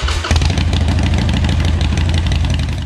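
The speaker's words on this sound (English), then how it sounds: "Just listen to that engine." A 2008 Harley-Davidson Sportster motorcycle engine runs steadily at idle after starting, a loud, close, continuous rumble with a rapid pulsing throb and no talk over it.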